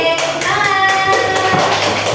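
Hands clapping in a primary school classroom during a fourth-grade lesson, a quick patterned group clap with short bursts spaced through the moment, fairly close and bright, with no talking over it.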